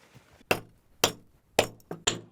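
Hammer strikes ring out in a steady series of five sharp, bright metallic blows about half a second apart, close and alone with quiet between hits, during an RV trip in Oregon.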